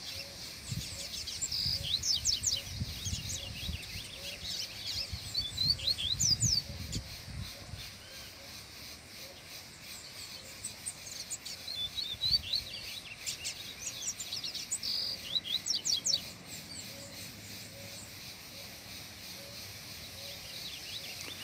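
A caged Coleiro (double-collared seedeater) sings out in the bush, bursts of bright chirping and trilled phrases repeating over a background of insects, with rustling and handling noises in places.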